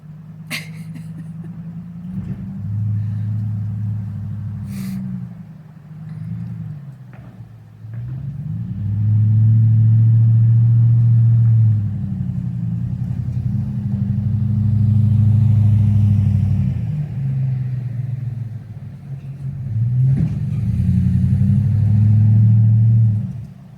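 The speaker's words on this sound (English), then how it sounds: "There's a truck behind me." A truck passes outdoors behind someone in a kitchen, a loud low engine rumble that swells and recedes in several waves over more than twenty seconds, with no talking.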